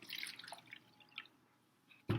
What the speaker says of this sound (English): going to just pour some vinegar in the cup